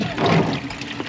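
Coolant drains from the cooling system of a Nissan 240SX S14, a steady trickling, splashing pour of liquid heard up close, loudest early and easing slightly toward the end.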